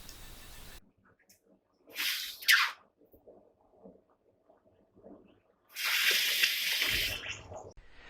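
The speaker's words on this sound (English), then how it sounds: "Metal workers do this by placing the hot metal into a liquid or sometimes forced air." Hot metal being quenched in liquid after heat treatment: two sharp hissing, sizzling bursts, the second longer, separated by quiet intervals.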